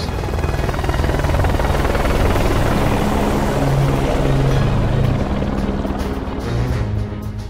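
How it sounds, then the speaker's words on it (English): A helicopter's rotor thumps steadily and loudly throughout in the video game Ace Combat 5, a dense continuous whir with low pulsing beneath it. "As he boarded the helicopter, the president smiled and said"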